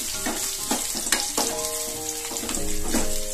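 Onions or spices sautéing in a pan on low heat for South Indian brinjal and drumstick sambar, a steady close sizzle and crackle with repeated scraping stirs, no voices.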